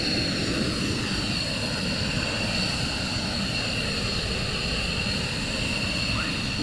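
F-22 Raptor military jets at RAF Lakenheath during surge operations: a loud, continuous roaring engine drone fills the air, sustained and unbroken across the whole stretch.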